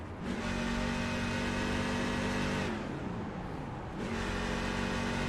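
A race truck engine at Darlington is heard from on board while the driver saves fuel, a steady mid-pitched drone that drops away briefly and then returns, loud and continuous with no talking.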